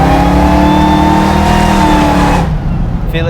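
A Hellcat-swapped Plymouth Cuda pro-touring build accelerates with a loud, rising engine roar heard from inside, which then drops away abruptly as the throttle is released.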